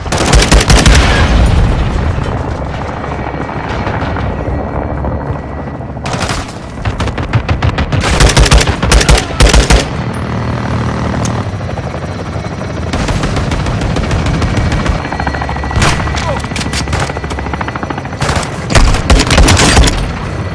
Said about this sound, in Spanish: Objetivo fijado, disparos efectuados.